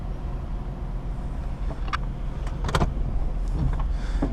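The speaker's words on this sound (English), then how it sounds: "All your power windows work as they should." Power windows of a lifted Cherokee XJ Sport running with a low motor whir inside the vehicle, joined by a few short clicks and squeaks, steady and close with no talking.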